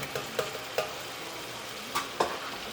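Flour being whisked into melted butter in a pan while beef cooks, soft scraping whisk strokes and light taps against the pan over a low steady sizzle, no voices.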